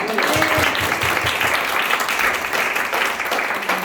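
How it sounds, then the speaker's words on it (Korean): A church congregation at a Sunday afternoon worship service claps together in steady, full applause that holds at an even level throughout. "하나님께 영광의 박수를 올려드립니다"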